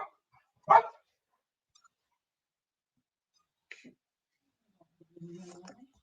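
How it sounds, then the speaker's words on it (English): Household dogs give a couple of short, isolated barks with long quiet gaps between them, heard fairly close in an otherwise silent room. "You hear the dogs?"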